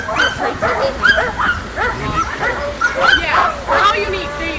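Iditarod sled dogs bark, yip and whimper in a lively, overlapping chorus close by during a summer dog sled tour, with repeated sharp calls throughout.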